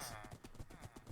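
Horse hooves clip-clopping in a fantasy role-playing video game, a steady, even rhythm of soft thuds at about three steps a second, faint and continuous under a low game backdrop.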